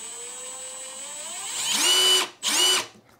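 Milwaukee M12 Gen 3 FUEL impact driver on speed 2 in high mode, its motor whine rising as the trigger is squeezed, then two loud hammering bursts separated by a brief gap, close and alone.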